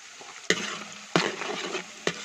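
Curry leaves and shallots sizzling in hot oil in a pan for Kerala catfish head curry, a steady frying hiss broken by three sharp bursts as ingredients are stirred or added.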